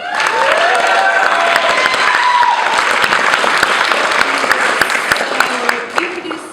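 Audience at a bookstore event clapping throughout, a dense, loud wash of many hands with scattered sharper claps, continuing steadily before easing slightly at the end.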